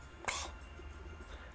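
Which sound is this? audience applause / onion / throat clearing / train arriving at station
throat clearing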